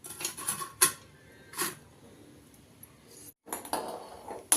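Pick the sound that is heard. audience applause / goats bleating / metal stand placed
metal stand placed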